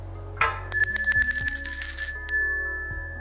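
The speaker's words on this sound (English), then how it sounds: "listen to the sound of the bell" A small bell rings with a bright, clear tone, struck in a quick run of chimes that shimmer and fade, heard alone up close.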